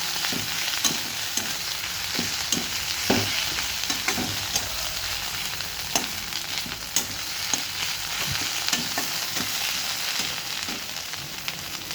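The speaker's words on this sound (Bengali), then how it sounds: "এবার সমস্ত উপকরণ আমি একসঙ্গে ভালো করে ভাজা ভাজা করব" Chopped onion, garlic and chili frying together in hot oil, with a steady close sizzle broken by frequent sharp scraping clicks as the mixture is stirred.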